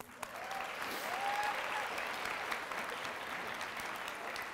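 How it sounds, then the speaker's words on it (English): An audience applauds at a children's book award ceremony, a continuous wash of many clapping hands at moderate distance, steady throughout with no voices on top. "I'm going to clap for that."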